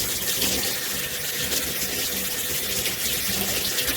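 Water runs steadily through hair while rinsing at the roots during a hair wash, a continuous close splashing gush without pauses or voices.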